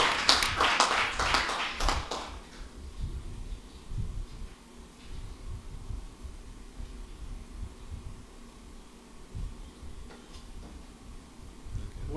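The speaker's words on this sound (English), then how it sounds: "that round of an applause was not enough" Audience applause after a lecture on open schooling for girls: a dense burst of clapping in the first two seconds, then it thins to a few sparse, faint claps and taps in a quiet room.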